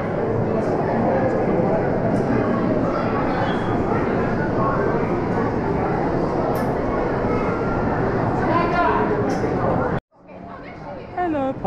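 Hogwarts Express train ride at Universal Studios Orlando: a steady loud rumble of the train carriage with crowd chatter throughout, then cutting abruptly to a quieter scene near the end.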